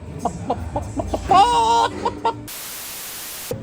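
Hens cluck in short repeated bursts close by, with one drawn-out squawk in the middle, then the sound drops to a flat hiss.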